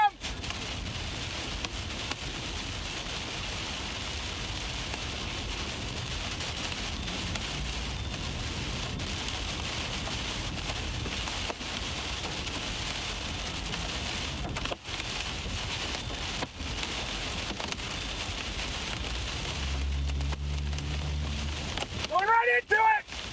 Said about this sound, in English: Well, you can still hear the core, hail core.